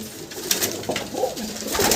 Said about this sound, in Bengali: এই হচ্ছে মুর্শিদাবাদের ছিটে পায়রা,